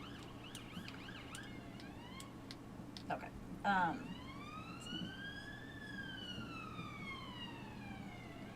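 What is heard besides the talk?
ambulance siren passing outside open window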